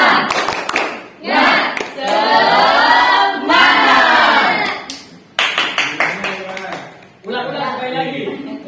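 A classroom of standing students performs the rhythmic tepuk semangat spirit clap, bursts of sharp claps alternating with loud group chanting voices in a call-and-response pattern.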